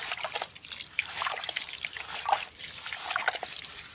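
Water is poured over newly planted lemongrass, a soft irregular trickling and splashing that is fairly quiet and close.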